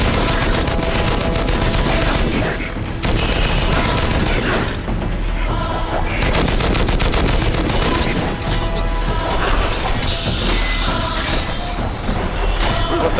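Grenade launcher and gunfire in the video game Too Human, a dense, loud barrage of booms, blasts and shattering impacts running continuously with brief dips.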